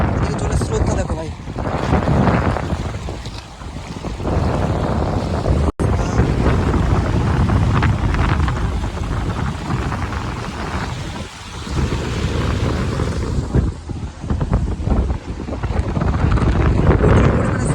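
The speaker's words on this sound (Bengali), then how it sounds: "এদিকে জলের স্রোতটা দেখো ভাই।" Swollen river after a water rise, its fast current rushing in a loud, continuous broadband roar that stays steady throughout, with wind buffeting the microphone.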